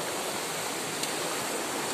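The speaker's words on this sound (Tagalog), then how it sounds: "Malakas yung tubig, guys." Strong flowing water from a flooded stream behind a house, a steady broadband rush that stays loud and constant throughout with no talk over it.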